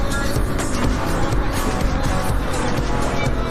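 Motorcycle crossing a bridge on a rocky green lane, its engine a steady, fairly loud drone with rumbling knocks and rattle throughout, close by and alone without talk.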